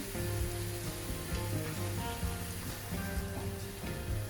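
Honey murukku (then murukku) deep-frying in hot oil, giving off a steady, dense sizzle with fine crackling that stays close and continuous throughout, with no voices.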